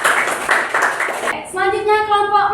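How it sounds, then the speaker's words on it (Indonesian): A classroom group claps in a short burst of quick, loud, rhythmic hand claps lasting about a second, followed by a clear voice. "Tepuk tangan dulu."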